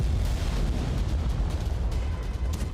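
Explosions go off in Iranian cities, heard as a dense, rumbling series of low booms and bursts that roll on without a break.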